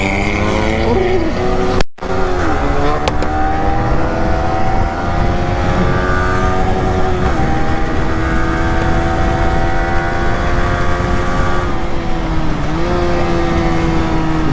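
A loud engine drones continuously, its pitch rising and falling as it revs, close and dominant for the whole stretch with no voices.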